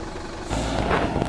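A heavily loaded truck labours up a steep slope with its engine losing pickup, giving a dense, rough low rumble that thickens and grows louder partway through, with no voices.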